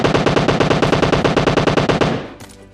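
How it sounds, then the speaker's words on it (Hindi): Sustained full-auto fire from an M762 rifle in a battle royale mobile game, a rapid even burst of loud shots lasting about two seconds before cutting off into a short fading tail. "तभी फायरिंग होती है M762 से"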